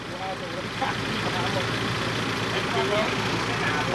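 Two farm tractors pull a broken-down cement mixer truck at a construction site, giving a steady, loud engine drone that holds throughout the clip, with voices faintly present.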